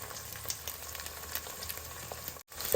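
Curry leaves and onions fry in a pan for tomato drumstick charu, stirred with a spoon: a steady, close sizzle with soft scraping strokes, briefly cutting out near the end.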